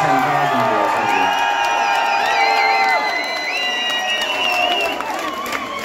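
A large concert crowd at the Electric Ballroom in Camden, London cheers and screams loudly and continuously, a dense wall of shrill whoops and shouts with no pause.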